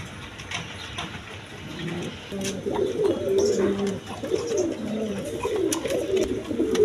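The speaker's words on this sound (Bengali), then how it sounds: "দর্শকবৃন্দ এখানে এক পেয়ার রেশার কবুতর আছে দেখেন, মিলি কালার রেশার।" A pair of mealy-coloured racer pigeons coo in repeated low, throaty phrases close by, with the sound building through the second half.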